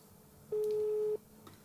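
A single steady phone ring-back or busy tone from an unanswered mobile call sounds once for about half a second, clear and close over a quiet room background.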